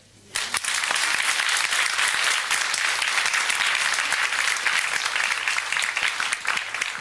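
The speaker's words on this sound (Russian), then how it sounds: "Овация." An audience breaks into an ovation: after a brief hush, dense, loud clapping erupts and continues as a sustained, even roar of many hands.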